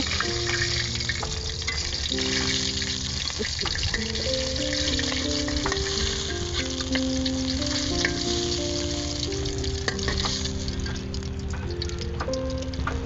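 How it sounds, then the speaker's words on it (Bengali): Koi fish with taro sizzle steadily in hot frying oil, a dense continuous crackle at close range with faint scraping and clinking of utensils, no voices. "দেখতে পাচ্ছেন মাছগুলো বাজা হয়ে গেছে এখন আমি তুলে নিব"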